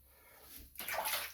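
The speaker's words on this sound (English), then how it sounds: "go ahead and rinse off the dome here" Water splashing over a freshly shaved head during a rinse, a brief quiet moment followed by a sudden close rush of pouring, sloshing water.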